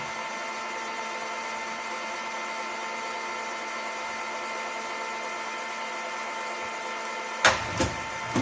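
A Luxcut drill runs under power feed with a steady mechanical whine and hum, close and even, ending with a few sharp clunks as the feed disengages.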